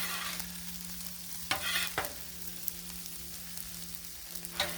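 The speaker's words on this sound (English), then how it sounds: "Make sure the shrimp's on the griddle." Shrimp frying on a Blackstone griddle for paella, a faint steady sizzle under a constant low hum, with a few sharp scrapes and clicks of a utensil on the flat steel.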